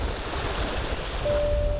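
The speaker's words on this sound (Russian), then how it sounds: "шум прибоя" Surf washing ashore in a steady, continuous roar of breaking waves, fairly loud and close, with a faint tonal hum rising near the end and no voices.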